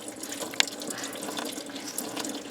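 Antifreeze draining from the water pump of a 1996 Jeep, a steady trickling, splashing flow of liquid heard close up, with a couple of sharp drips or knocks over the running stream.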